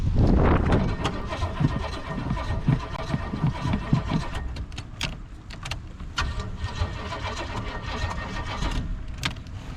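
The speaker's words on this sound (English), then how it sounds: "if I should start this raggedy car up" A raggedy 1985 Pontiac Parisienne with a weak battery cranks and catches, a loud rough engine start close by that settles into an uneven idle with clicks and rattles over it.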